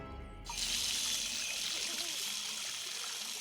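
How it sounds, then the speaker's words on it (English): Water runs steadily from a tap in a large old house, a continuous near hiss that starts abruptly after a brief quiet moment and holds at an even level. "Walter could have sworn he heard water running."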